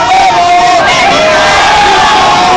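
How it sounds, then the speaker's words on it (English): Crowd at a street gathering cheers and shouts together in a loud, dense burst of many voices, close and sustained for a few seconds. "What a good crowd."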